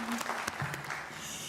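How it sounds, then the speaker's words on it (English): Brief burst of applause from a graduating class and guests at a 2024 college baccalaureate ceremony, a short scattered clatter of hands with a few sharp claps, fairly faint and fading quickly. "That deserves a round of applause."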